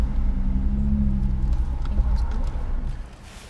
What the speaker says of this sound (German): Das ist gerade ein ausländisches Audi Cabriolet an uns vorbeigefahren.